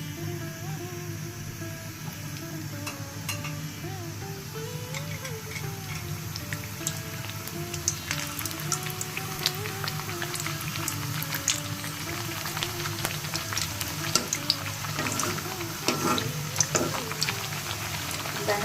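Rolled dough goes into lightly heated oil in a home kitchen, giving a steady, dense crackle and bubbling fizz with scattered sharp pops that continue throughout at moderate loudness.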